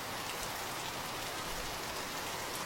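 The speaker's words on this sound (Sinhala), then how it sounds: "වැස්ස ටිකක් අද කොරානේ" Steady rain falls continuously, a dense even hiss of drops on surfaces with no voices, filling the whole short stretch at moderate level.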